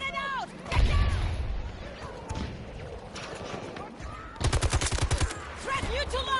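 Battlefield combat on PS5 with a grenade blast amid gunfire: a heavy thump near the start, then scattered shots and a loud rapid burst of automatic fire late in the scene, with voices calling out over the action.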